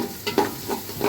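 Chopped onion fries in a pan with cardamom, cinnamon and bay leaf for chicken biryani, a close sizzle with several scraping stirs of a spatula in quick succession.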